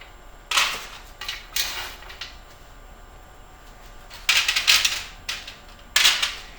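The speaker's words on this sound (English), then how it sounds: "I'm just gonna put a little bit in the bottom of each of these tins." Toasted pecans dropped in small handfuls into baking tins for toffee, giving several bursts of light rattling clatter separated by pauses, close and fairly clear.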